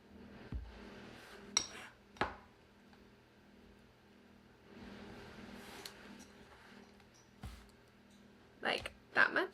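A spoon stirs Greek yogurt and peanut butter together in a bowl, producing scattered soft scrapes and a few sharp clinks against the bowl, quiet and close, with brief pauses between strokes.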